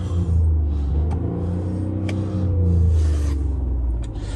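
A 2022 Mini Countryman Signature All4 engine revs up and settles, a steady low rumble that swells and eases, heard up close with no talk over it.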